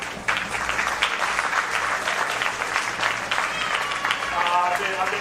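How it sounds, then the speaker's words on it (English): A county fair crowd at a beef show claps for the steer kids, a dense, sustained round of applause that holds steady from start to finish. "Big round of applause for the steer kids."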